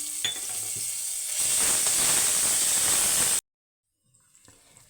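Green chilli and garlic paste dropped into hot oil while cooking a sprouted moong paratha, bursting into a loud continuous sizzle after a few soft clinks, then cutting off abruptly to near silence.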